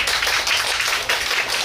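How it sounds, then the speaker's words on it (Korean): An outdoor festival crowd at a gakseol-i performance during the Yeosu Geobukseon Festival claps in a steady, loud burst of many hands, continuous throughout with no speech. "맞다고 생각하시면 박수"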